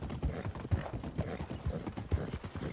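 Horse hooves clip-clop at a steady trotting rhythm in the video game Red Dead Redemption 2, a quick run of soft, close, evenly spaced clops with faint mechanical clatter and no talk.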